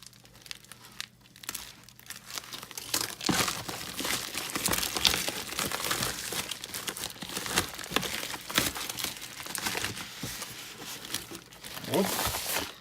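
An LED projector's crinkly packaging is torn open and crumpled up close, with bursts of rustling, tearing and crinkling, while someone talks over it in Russian.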